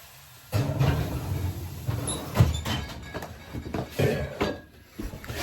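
A lid clanks onto a bread pot and the pot scrapes and knocks as it is slid back into a hot oven, a cluster of metallic clatters and a squeak up close.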